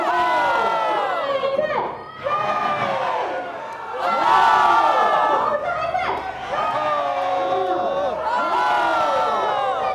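Crowd of visitors at the Shanghai World Expo energy sphere shouting and cheering together in swelling waves, loud voices rising and falling in bursts with whoops and chatter mixed in.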